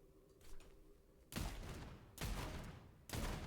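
Gunfire from a cranked gun in the video game Sulfur: three heavy rapid bursts of shots, each lasting close to a second, loud and close over quiet ambience.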